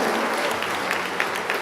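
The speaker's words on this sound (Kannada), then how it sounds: "2022ನೇ ಸಾಲಿನ ಮುಖ್ಯಮಂತ್ರಿಗಳ ಪದಕ ಪುರಸ್ಕೃತರಿಗೆ ಎಲ್ಲರಿಗೂ ಕೂಡ ಒಂದು ಸುತ್ತಿನ ಜೋರು ಚಪ್ಪಾಳೆಯ ಅಭಿನಂದನೆ ಗೌರವ." Loud, steady applause fills a medal award ceremony as the crowd honours the chief minister's 2022 medal recipients, a dense wash of clapping sustained from start to finish.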